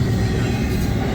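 The last car of a long Norfolk Southern double-stack freight train passes close by, producing a loud, steady roar and rumble of rolling wagons with no break.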